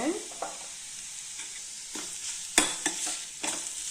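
Onions with turmeric sizzle steadily in a hot pan while a utensil stirs and scrapes a few times, close and fairly loud, with no voices.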